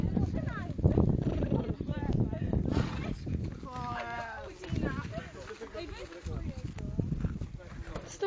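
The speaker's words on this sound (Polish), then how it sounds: "Trzymajcie konia." Horse hooves clop at a riding camp near a lake, irregular thuds close by, mixed with people talking and calling out over them.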